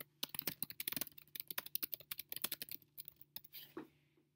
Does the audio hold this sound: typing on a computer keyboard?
yes